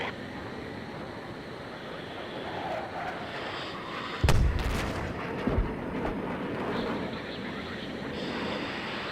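A bomb explodes in Battlefield 3 on the Back to Karkand map. A sudden heavy blast booms over a constant roar of engines and wind, a second thud follows about a second later, and a voice speaks faintly in the background.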